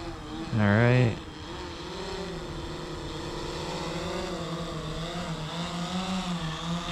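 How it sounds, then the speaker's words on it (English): A camera drone descends and lands, its motor whine holding as a steady buzzing hum with gently wavering pitch under a brief voice at the start, continuing evenly to the end. "Here's the drone landing."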